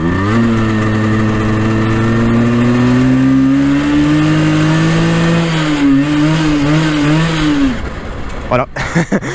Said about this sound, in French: la moto là niveau réglage carbu elle est trop riche, écoutez.